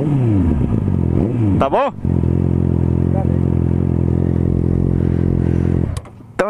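A Honda CB650R motorcycle engine roars loud and close, revving hard with a sharp throttle blip, then holding a steady growling idle before cutting off, with a brief spoken word near the start.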